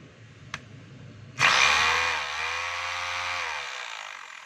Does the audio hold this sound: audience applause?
no